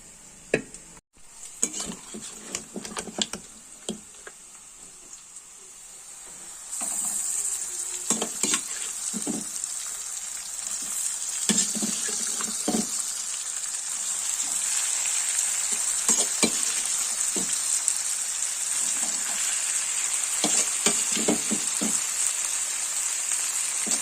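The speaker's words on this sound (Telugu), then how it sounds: "ఇప్పుడైతే చికెన్ అయితే అందులో వేసేద్దాము" Chicken pieces tipped into a pan of well-fried onions for chicken gongura, a steady loud sizzle swelling partway through with scraping stirs and clinks, no voices.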